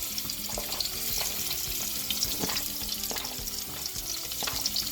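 Chopped garlic and onions sizzle and fry in a pot, making a dense, steady crackling hiss close up, with light stirring clatter throughout and no voices.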